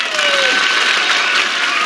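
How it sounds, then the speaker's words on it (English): A studio audience at a 1979 CBS daytime game show applauds loudly and steadily, a dense, continuous burst of clapping filling the whole moment. "All those who like these shoes, please applaud."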